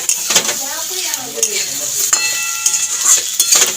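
Chopped green chilies hit a pan of potatoes frying in oil for a prawn fry dish, with a bright close sizzle, metal utensil scrapes and clinks, and a brief voice early on.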